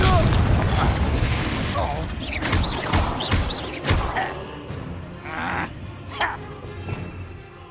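The Confringo blasting curse in Hogwarts Legacy lets off a loud booming explosion, followed by crackling debris and smaller impacts that fade over several seconds amid busy game sounds.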